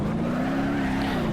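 Race car with ETK race suspension and a 6-speed race transmission, in the BeamNG.drive game, climbs a hill course with a loud, close engine howl that rises steadily in pitch as it accelerates.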